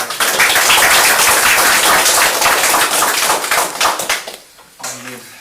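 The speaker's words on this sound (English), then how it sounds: "So, again, I'll give them a round of applause." Loud, dense applause at a Lanier County commissioners meeting, honoring departing commissioners; clapping fills the room for about four seconds, then fades as a voice begins speaking.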